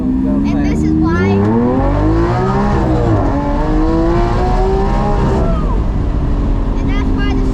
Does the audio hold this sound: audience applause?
no